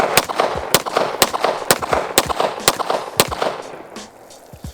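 Hi-Point C9 pistol shots ring out at an outdoor range, a steady string of about eight sharp, loud cracks spaced roughly half a second apart, followed by a few fainter knocks and handling noises.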